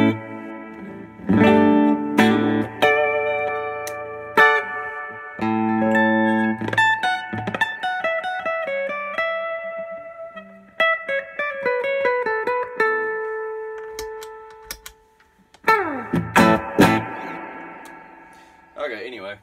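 Electric guitar through a new amp with reverb, plucked notes and strummed chords with long ringing decays, sustained single notes and a final flurry of strums, played alone with pauses between phrases.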